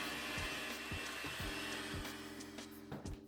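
An electric stand mixer beats cake batter for an Italian cream cake on low speed, a steady motor whir close by with a regular rhythmic thump as the attachment turns.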